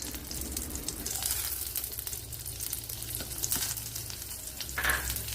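Instant vegetable noodles fry in a pan as the packet masala is added, giving a steady, close sizzle with occasional stirring scrapes and no talk.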